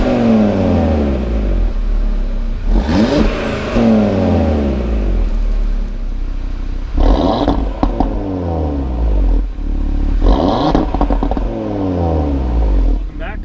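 A 2018 Audi RS3 fitted with STM tuned mid-pipes accelerates hard, heard loud from inside the cabin. Its five-cylinder-style engine note climbs in rising revving sweeps through several gear pulls, with sharp shift breaks and crackles between them.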